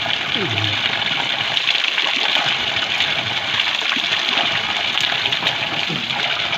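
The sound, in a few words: spring water flowing from an old stream outlet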